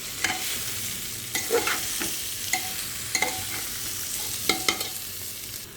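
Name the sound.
frying rice and lentil mix for khichuri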